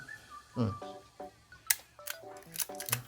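Canon QL17 rangefinder film camera shutter firing, several crisp mechanical clicks spaced across a few seconds, close and fairly quiet with a faint background hum.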